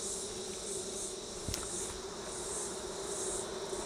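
Honey bees fill an open hive with a dense, steady buzz, one brief click cutting through near the middle.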